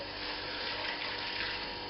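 Water runs steadily through the piping and pump of a Robobrew brewing system, a continuous, fairly loud rushing and splashing flow close by with no pauses.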